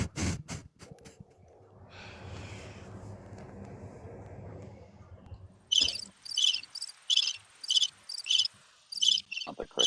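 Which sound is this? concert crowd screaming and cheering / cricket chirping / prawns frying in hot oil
cricket chirping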